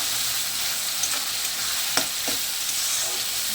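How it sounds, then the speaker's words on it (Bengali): Grated yardlong beans and tomato are stirred and fried in a pan, giving a continuous dense sizzle with a few sharp scraping clicks of the spatula, close and without voices. "এটাকে ভালো করে নাড়াচাড়া করে শুকনো শুকনো করে নেব"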